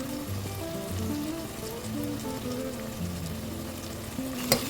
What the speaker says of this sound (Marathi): परतून घेऊया तेलावर